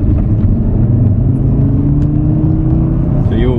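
An Audi 8Y RS3 engine rumbles loudly up close as the car pulls out for a warm-up lap at Brands Hatch, a deep steady drone with a slowly rising tone under faint background noise.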